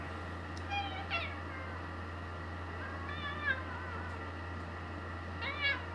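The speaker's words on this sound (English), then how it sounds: "He's a big old cat." A big old cat named Jack meows three times at spaced intervals, short rising calls heard up close over a steady low hum, with no talking.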